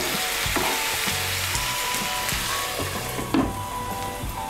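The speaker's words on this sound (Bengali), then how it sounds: "ঢ্যাঁড়সটাকে ভালো করে মশলার সঙ্গে মিশিয়ে নিয়ে আঁচটাকে কমিয়ে আমি 2 মিনিটের জন্য ঢেকে দেব।" Okra sizzles steadily as it fries with spices in a pan, stirred now and then with soft scraping knocks over a continuous close crackle.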